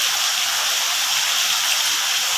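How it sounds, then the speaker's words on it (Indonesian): Steady rain falling, a dense, even hiss of water that stays constant and fairly loud throughout, with no voices or other sounds over it. "dengan air hujan yang turun pada saat ini"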